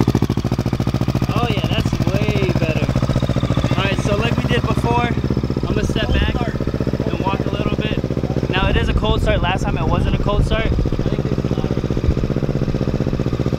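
Kawasaki Z650 motorcycle fitted with a new aftermarket exhaust, its engine running with a continuous low droning rumble throughout, loud and close, while people talk over it.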